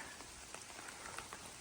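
Steady light monsoon rain patters on a surface on the Arizona Trail, with scattered individual drops standing out, soft and continuous.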